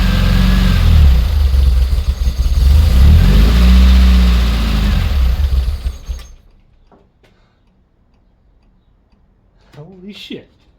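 A supercharged Morris Minor engine revs loudly with heavy choke, rising and falling in rough swells for about six seconds before cutting off abruptly into near silence, followed by a brief voice.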